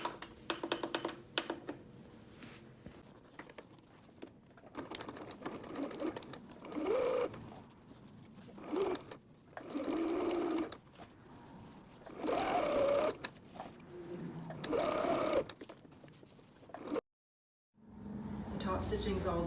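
A sewing machine top stitches the outside edge of a fabric tote bag at a longer stitch length, running in repeated bursts with short pauses while a person talks between runs.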